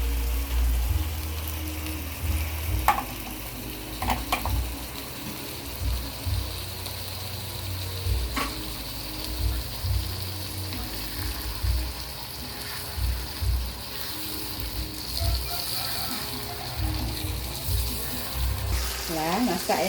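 Clams and bitter melon cook together in a pan, giving a steady close sizzle with a few soft stirring scrapes and knocks throughout, no talking.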